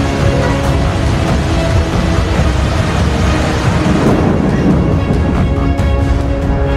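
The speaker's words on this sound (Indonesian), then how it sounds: "memperlihatkan hujan badai tersebut menerjang dengan sangat kencang" A violent rainstorm with strong wind batters Teluk Jambe, Karawang, a loud continuous roar of rain and gusts filling the whole stretch without letup.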